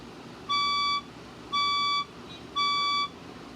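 A building fire alarm test sounds three loud, evenly spaced electronic beeps, each lasting about half a second, with short quiet gaps between them.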